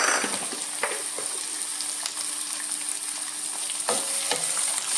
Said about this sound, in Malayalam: ഒന്ന് മിക്സ് ചെയ്ത ശേഷം ഇച്ചിരി ഉപ്പൂടെ ചേർത്ത് ഇതൊന്ന് വഴറ്റിയെടുക്കും